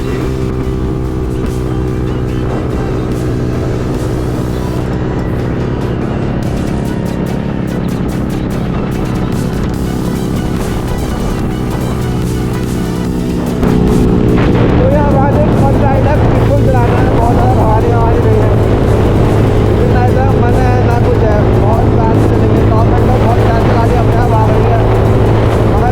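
A Yoshimura Alpha exhaust on a motorcycle out on a ride, holding a loud, steady drone that grows fuller and rougher partway through as the engine works harder, with wind buffeting underneath.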